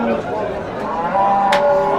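Cows at a cattle market lowing amid a busy crowd, with a brief sharp noise midway and steady market chatter underneath.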